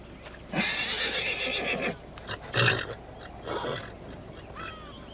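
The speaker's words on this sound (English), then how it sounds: "He's a warrior's horse." A warrior's horse in an Old West setting whinnies loudly in two or three separate bursts, with a short snort and faint hoof sounds between them, close to the listener, with no talk.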